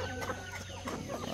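A rooster that is blind in one eye clucks in short, soft bursts, several quick clucks close by against a low steady background hum, with no talk.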